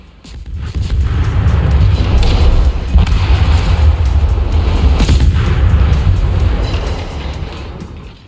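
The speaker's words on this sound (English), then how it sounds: "I can get some shots off now anyway on that Cherbourg." Guns of the German destroyer KMS Lebrecht Maass firing in World of Warships, heavy booming salvos over a loud, continuous low rumble of engine and sea, with a few sharper cracks standing out.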